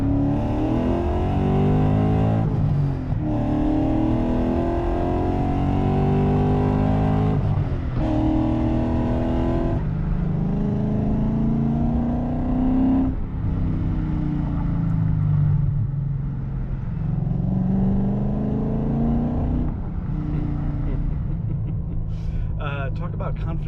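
A Sterling Grey 2003 BMW E39 M5 engine drones steadily and rises through the revs while driving, its pitch climbing and dropping with gear changes, loud and continuous beneath someone talking throughout.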